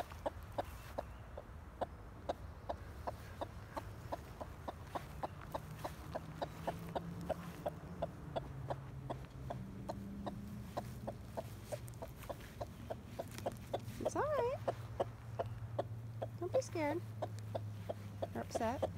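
A broody hen clucks in steady, rapid low pulses throughout, close and continuous, while someone talks softly to her over the top.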